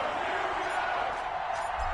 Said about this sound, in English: This crowd is ready as their guys get set to match up between the Denver Broncos and the Pittsburgh Steelers.